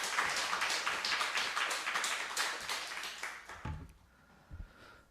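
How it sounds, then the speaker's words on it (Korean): A church congregation applauding in a dense, loud burst of clapping that thins out and fades to scattered claps near the end. "모든 식구님들을 위해서 또 사랑의 박수 부탁드리겠습니다."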